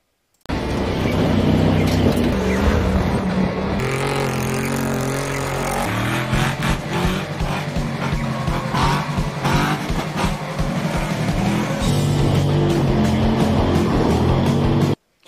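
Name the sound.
truck doing a smokeless burnout with locked rear differential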